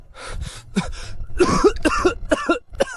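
Several harsh coughs in irregular bursts with throat-clearing and sharp breaths between them, close and fairly loud, no speech.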